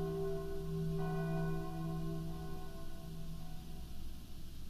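A bell rings steadily from an unseen source, its sustained tone lingering for several seconds over a constant background hum, moderately loud with no voices.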